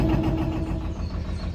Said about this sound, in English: The engine definitely seems quieter,